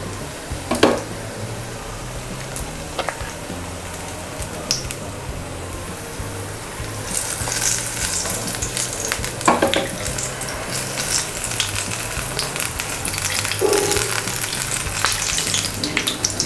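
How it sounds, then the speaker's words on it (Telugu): Batter-dipped mirchi bajji chillies crackle in hot oil with a dense, steady sizzle. The frying grows busier partway through, and a few sharp spits and clatters stand out. "ఆయిల్ కాగాక మంట తగ్గించుకుని బజ్జీలు వేసుకోవాలి."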